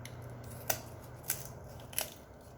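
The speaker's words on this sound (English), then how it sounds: "I'm just going to take my sharp kitchen shears and go down either side of the backbone." Sharp kitchen shears snip down either side of a chicken backbone, giving three distinct crisp crunching cuts spaced about half a second apart over a low steady background hum.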